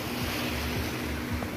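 Surf washes constantly onto the northern part of Gili Trawangan's east-coast beach, a dense, steady roar of breaking waves with wind buffeting the microphone and no voices.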